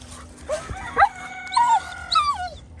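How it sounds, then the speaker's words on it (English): A dog whimpers and yips in a few short, high, wavering cries with gaps between them, close by and fairly loud, with no talk over it. "It's a good dog."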